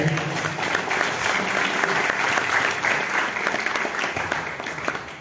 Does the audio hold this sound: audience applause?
yes